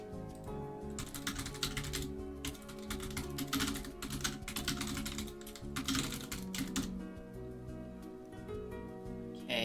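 Rapid, close clicking of a computer keyboard comes in dense bursts with short pauses in between, alone with no voices.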